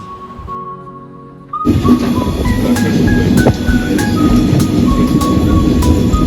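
The Saraighat Express pulls out of Bolpur station, a loud, steady rumble of rolling train wheels that starts suddenly partway through and keeps up with periodic clanks and squeal-like tones.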